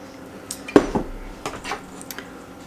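A spoon stirs a small, compact mix of T85 rye flour and 25 grams of water for a sourdough starter in a bowl, giving a few scattered clinks and scrapes against the dish.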